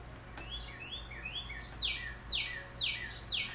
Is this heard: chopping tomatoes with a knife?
no